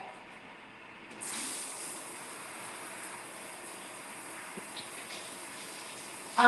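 Water runs steadily from a bathroom tap or shower as a surface is rinsed after being scrubbed with bathroom cleaner. It is a faint, even rush that starts a moment in and continues without talk.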